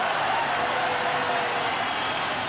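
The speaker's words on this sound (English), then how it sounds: "For the first time, those Derry fans have got something to cheer." Derry City football fans cheer at a stadium during the 1988 FAI Cup Final against Dundalk, a broad, steady crowd roar with applause, distant and continuous.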